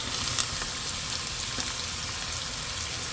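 Native onions fry in hot oil in a pan for a prawn curry, giving a steady, fairly quiet sizzle and crackle with a few small pops, no voices.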